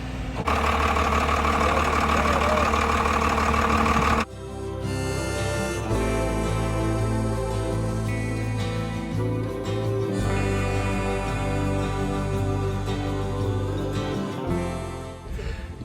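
School bus engine under conversion cranks with a loud whirring starter for about four seconds, then catches and settles into a steady, heavy diesel-like idle with a deep rumble and slight knock.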